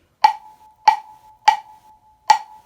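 Four sharp wooden clave clicks with a short pitched ring, spaced unevenly like a 3-2 Latin clave pattern, loud and dry with no voices.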